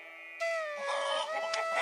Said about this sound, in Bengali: আমাদের বাড়ির ভেতর থেকে অনেক মোরগ মুরগির ডাক শোনা যাচ্ছে